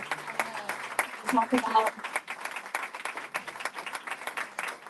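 Scattered audience applause for teachers at a school board meeting, a loose run of individual claps under steady spoken talk.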